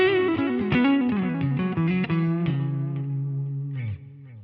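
An electric guitar plays through a Line 6 Helix modeling the US Deluxe amp, set with a little reverb and delay. A melodic run of bright sustained notes ends on a long held note that fades into a reverb tail, with no talking.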